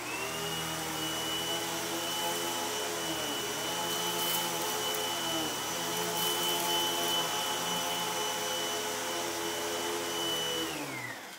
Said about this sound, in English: We're going to do a pickup test on the Hoover